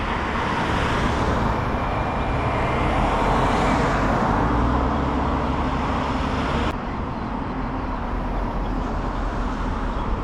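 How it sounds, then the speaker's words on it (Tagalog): A bus pulls up at a roadside stop in New Zealand, its engine giving a steady, loud broadband rumble that eases slightly partway through, with no talking. "Nandyan yung bus mga kapin boy"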